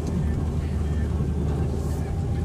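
A custom 3/4-ton Mazda Bongo 4x4 mini truck driving over bumps, heard from inside the cab as a steady low engine and road rumble with wind buffeting.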